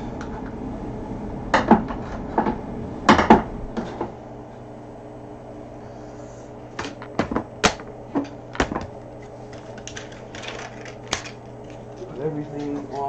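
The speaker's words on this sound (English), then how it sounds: "Put away the clamps." Woodworking clamps clatter as they are gathered up and stacked in a cabinet-making shop, with bursts of metallic knocks and clunks scattered through a quiet room hum.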